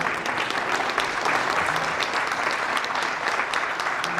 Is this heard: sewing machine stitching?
no